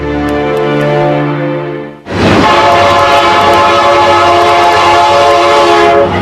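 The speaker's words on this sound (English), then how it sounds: "Today's giant locomotives are the latest muscle machines to power the railroad industry." A giant modern railroad locomotive sounds its loud horn in long sustained harmonic blasts, then rumbles past close by with roaring engine and rail noise that continues steadily to the end.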